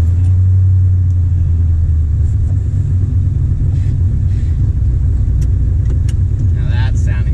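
A Chevrolet C3 Corvette engine idles hot after warm-up, a loud, close, steady low rumble with a slightly lumpy beat and faint talk underneath.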